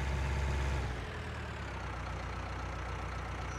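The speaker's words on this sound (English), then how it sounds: "we'll hop in the Valtra 104, the smaller tractor that we're using just for the sheep pen over here." Valtra 104 tractor engine idling in Farming Simulator 19, a steady low diesel rumble heard alone, slightly louder at first and then settling into an even idle.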